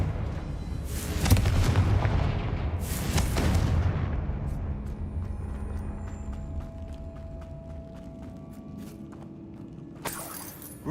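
Fire spell explosions in the Hogwarts Legacy video game: two loud booming blasts in quick succession with crackling debris, a long fading rumble, then a sharp crack near the end; no talk.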